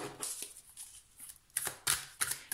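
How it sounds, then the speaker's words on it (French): Tarot cards are drawn and shuffled in soft, close papery riffles and slaps, a few quick bursts separated by short pauses, fairly faint. "je vais tirer d'autres cartes"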